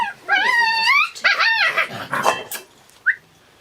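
Puppies about four to five weeks old whimper and yelp in high, wavering cries, several overlapping calls close by with a brief squeak at the end, while people speak faintly in the background.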